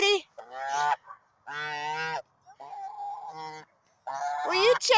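A pet goose honks loudly and repeatedly at close range outdoors, several long harsh calls in bursts separated by short pauses, with no talk over it.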